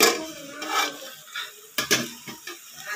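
A lid comes off a pot of chicken curry, and a couple of sharp metallic clinks and scrapes follow amid soft sizzling and kitchen noise, close and moderately loud.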